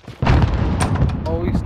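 A sniper rifle shot in Call of Duty: Modern Warfare, a sudden heavy boom that kicks in abruptly and rolls on with a rumbling tail, followed by fainter clatter.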